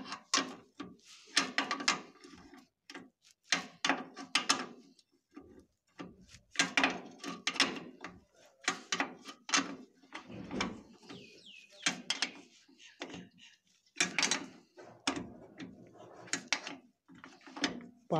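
Ratchet wrench tightening nuts during electrical cable work, heard as repeated bursts of close, rapid clicking and metallic rattling with short pauses between strokes.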